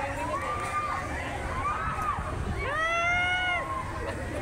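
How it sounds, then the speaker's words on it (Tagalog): Riders on a drop tower ride beside Manila Bay scream from a distance, long wailing cries rising in pitch over crowd murmur and open-air ambience, with one louder chorus of several voices near the end. "Kung naririnig nyo naman guys, grabe grabe ang sigawan talaga."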